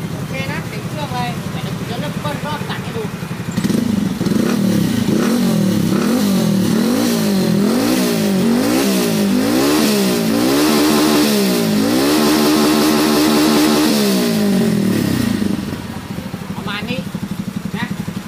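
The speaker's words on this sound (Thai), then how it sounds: "เดี๋ยวผมจะเปิดเครื่องให้ดูสตาร์ทให้ดูนะว่าเดิมๆตอนที่ยังไม่ได้ริมแบบเป็นยังไง" Stock motorcycle engine on its original ECU map, starting up and idling, then revved repeatedly in rising and falling sweeps for about twelve seconds before settling back, loud and near.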